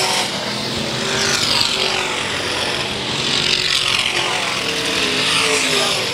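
IMCA modified race cars roar around Ionia Raceway Park, engine noise swelling and fading as the field passes in a continuous, loud rumble.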